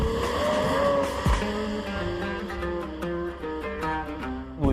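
A Lamborghini Murcielago SV on a public-road test drive, engine note rising and falling through gear changes with a brief tire squeal, heard loud and close from inside or beside the car.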